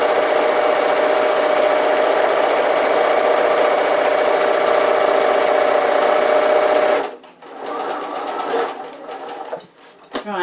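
A sewing machine stitches around the edge of a tote bag in a fast, continuous buzzing run that stops after about seven seconds, followed by quieter handling and short bursts of stitching.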